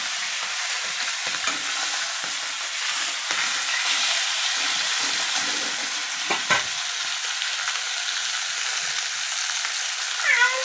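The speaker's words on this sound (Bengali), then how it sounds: "মাছ ভাজা হচ্ছে এখন, এরপরে ঝোল হবে আর কি।" Small carp fish sizzle in oil in a wok, a steady close frying hiss with occasional stirring clatter and a brief cat-like meow near the end.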